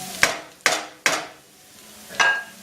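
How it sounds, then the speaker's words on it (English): Spoon stirring garlic and onions in a pot for marinara sauce, four sharp knocks against the pot, three in quick succession and then one more after a pause, close and clear, with no talk. "And now we stir this all in."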